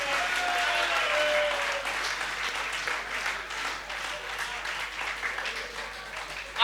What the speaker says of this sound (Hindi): हाथ खड़े करके तालियां बजाओ जरा एक बार जोरदार